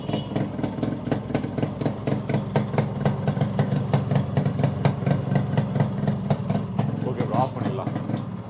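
A Yamaha RX two-stroke motorcycle engine idles up close with a steady, rapid ticking pulse and a faint rattle, the note dipping slightly near the end.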